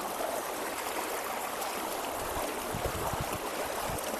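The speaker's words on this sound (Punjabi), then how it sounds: "ਵੇਖੋ ਜੀ ਇਧਰ ਪਾਣੀ ਕਿੰਨਾ ਤੇਜ਼ ਆਈ ਜਾਂਦਾ" Floodwater rushing through a village roars steadily and close, a dense, unbroken wash of turbulent flow with low churning surges throughout.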